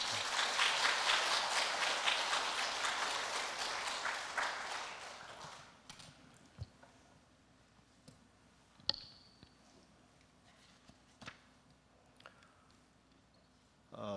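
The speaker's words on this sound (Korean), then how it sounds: "목사님 반갑습니다, 사랑합니다 라는 마음으로 박수로 환영하도록 하겠습니다" Korean church congregation applauding as the pastor comes up at a Sunday service, a dense round of clapping for about five seconds that fades out, followed by quiet with scattered small clicks and knocks.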